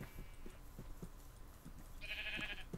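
Sheep bleating in the Minecraft video game, a short bleat toward the end over a busy background of low game noise and footsteps-like thumps.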